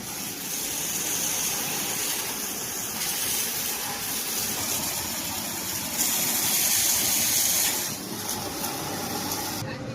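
Water spraying steadily over a motorcycle chain and chain pads in a bike garage, a continuous broadband hiss and gush with a brief louder burst midway, fairly close.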